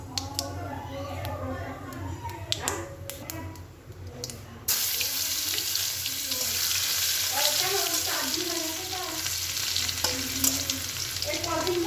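Garlic fries in a wok with a steady sizzle, joined by running water and stirring in a busy home kitchen while a voice speaks at times.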